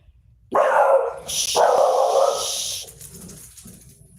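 A dog near a grassy area barks at other dogs close by, giving a couple of loud, near barks followed by a fading trailing sound and quiet background.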